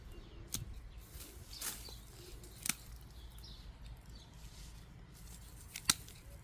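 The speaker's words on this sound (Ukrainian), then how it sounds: "Просто обрізаю зайве і все." Hand shears pruning excess shoots from a conifer give sharp, sparse snips, about four distinct cuts spaced irregularly, close and crisp over a quiet outdoor background with faint birdsong.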